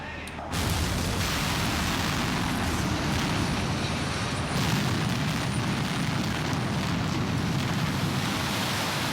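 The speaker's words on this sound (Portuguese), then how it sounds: "uma descarga elétrica causa explosão" A sudden deep blast from tunnel blasting in the Alps, set off electrically, erupts and gives way to a sustained, loud roaring rumble that continues without letting up.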